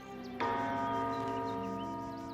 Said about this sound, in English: We can ring the bell.